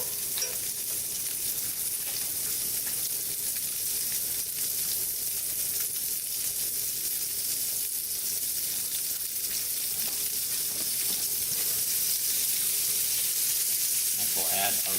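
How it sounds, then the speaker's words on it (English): Vegetables for a quinoa salad paella sauté in a hot pan with a steady, even sizzle and hiss that runs unbroken and fairly loud throughout. "Saute this just for about a minute or so."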